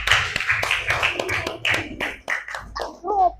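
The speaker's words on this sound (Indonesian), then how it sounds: "Beri tepuk tangan untuk kelompok Safa." Students in a classroom give a short burst of uneven hand clapping for a student group, mixed with chatter and voices throughout.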